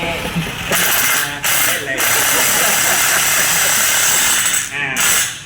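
A power drill driving screws whirs in loud bursts, stopping and restarting a few times, close by and harsh, during partition-wall installation training.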